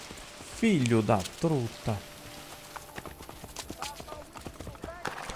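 Horse hooves in the video game Assassin's Creed Brotherhood Remastered, a soft irregular clip-clop running through the clip after a short spoken exclamation.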